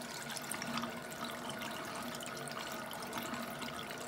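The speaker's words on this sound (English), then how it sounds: "turn this water off." Water pours steadily from a tap in a room where a plaster of Paris cast is being made, a continuous broadband rush with no talk over it.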